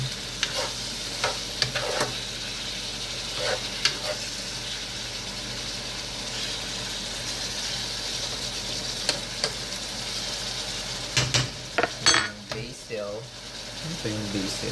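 Food being stirred in a sizzling pan gives a steady frying hiss with scattered utensil scrapes and clinks, the clatter growing busier near the end.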